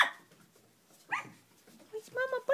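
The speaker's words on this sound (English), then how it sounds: "What's Mama barking at?" A mother dog with puppies lets out a few faint, short barks and yips, some heard at a distance, in a quiet indoor room.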